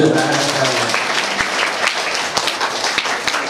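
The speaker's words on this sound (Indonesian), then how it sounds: "Tepuk tangan." A crowd of schoolchildren applauds steadily, dense clapping filling the room, with a few sharper individual claps standing out.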